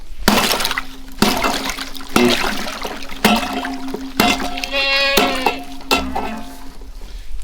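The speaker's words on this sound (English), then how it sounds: "I'm gonna bust some ice for the goats real quick" Repeated sharp cracks and shattering of ice in a goats' water trough, several heavy strikes spaced a second apart, with splashing water and crunching chunks between blows.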